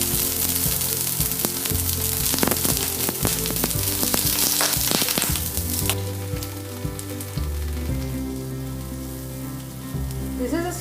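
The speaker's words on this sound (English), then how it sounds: "once the curry leaves and mustard seeds splutter, add the brinjal disc to it" Brinjal discs fry in oil with curry leaves and mustard seeds, a busy crackling sizzle with sharp pops and spatters that eases into a calmer, steady fry midway, no talking.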